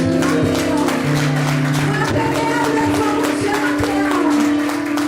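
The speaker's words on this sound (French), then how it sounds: "L'église applaudit le Seigneur." A church congregation claps for the Lord in worship, rhythmic hand claps mixed with loud music and voices, continuous and close throughout.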